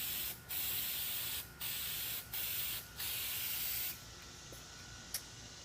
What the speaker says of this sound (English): Just application with Aerosol Clear.